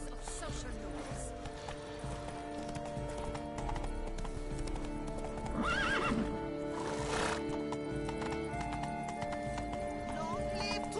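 Horse neighing loudly and hooves clopping in The Witcher 3 expansions, a sharp whinny rising mid-clip over steady hoofbeats, with game music and a faint voice in the background.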